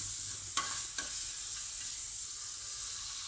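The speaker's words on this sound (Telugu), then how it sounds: "కడాయి వేడయ్యాక ఒక స్పూను బటర్ వేసుకోవాలి." Butter sizzling steadily in a hot kadai, a continuous bright frying hiss with a couple of brief clinks from a spoon near the start, no talking.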